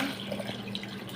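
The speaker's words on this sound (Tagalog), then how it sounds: "Tapos lagyan na natin ang tubig." Water poured into a pot while cooking eggplant, a short, soft trickle and splash of running liquid heard close and alone.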